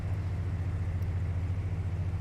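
A de Havilland Beaver's radial piston engine in Flight Simulator X runs at a steady, even drone with a low throbbing pulse, held at constant power with no other sounds.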